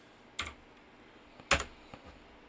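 Two sharp, close keystrokes on a computer keyboard, with a softer tap after them, against a quiet room hum while a password is entered during a MySQL install on Debian 11.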